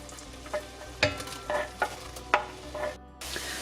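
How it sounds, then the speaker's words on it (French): Sliced onions go into gently foaming butter in a pan for a vegan Flemish carbonnade, giving soft bursts of sizzle and stirring clatter close by, with a brief hush before a steadier fry. "Quand le beurre commence à frémir comme ça légèrement, on met nos oignons émincés."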